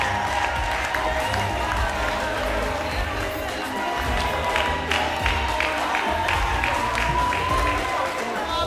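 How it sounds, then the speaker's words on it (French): A crowd at a program event in Lubumbashi claps and cheers continuously, a dense sustained applause that runs under a voice speaking over it. "Vos applaudissements, ça peut se mettre en robe."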